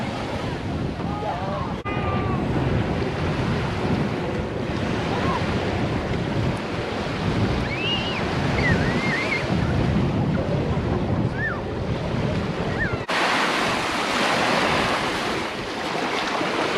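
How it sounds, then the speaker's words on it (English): Ocean waves break and wash onto a Hawaiian beach on Oahu in a steady surf roar, with wind buffeting the microphone and a few faint bird calls over the top. "check out this beautiful beach"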